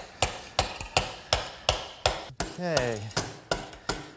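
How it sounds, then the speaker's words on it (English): A mallet taps an eye bolt into a metal bracket in about ten sharp, evenly spaced knocks, loud and close, with one brief spoken word partway through. "so I'm going to use a mallet to..."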